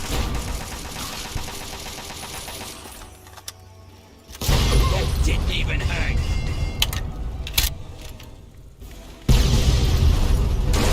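Explosions in the video game Fallout 3/New Vegas go off as heavy booms over a rumbling, engine-like game soundscape, loud and close, with sharp surges after quieter stretches.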